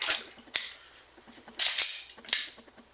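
A Glock 23c dry-fired on unprimed dummy rounds: a series of sharp metallic clicks and slide clacks, four or five crisp close snaps spaced irregularly, with no shot and no talking.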